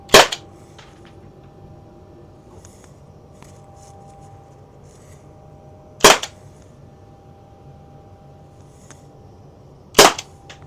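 Byrna LE launcher powered by Sig CO2 fires three sharp, loud single pops spaced several seconds apart, with near silence between them.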